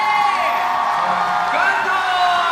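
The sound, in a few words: crowd applauding and cheering to welcome performers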